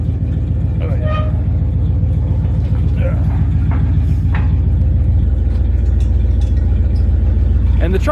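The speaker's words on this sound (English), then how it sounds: "And the truck's running pretty good." A 50-year-old ramp truck's engine idles with a steady low rumble and pulsing throb throughout, while someone talks over it nearby.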